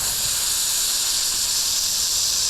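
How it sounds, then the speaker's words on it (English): A garden hose fitted with a high pressure nozzle sprays in a steady, loud, hissing rush, unbroken and close up, with no voices. "this is just a garden hose with a high pressure nozzle on it"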